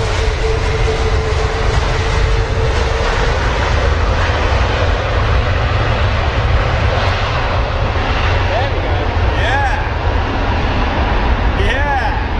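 An American Airlines Boeing 777 jet at London Heathrow roars loudly and steadily throughout, a continuous broad engine rumble with voices talking over it.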